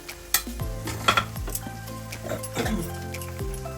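Ginger, onion and garlic paste with tomatoes go into a hot pan for a Bengali katla fish curry, giving a soft sizzle under clinking of a spoon against the pan and a few stirring scrapes.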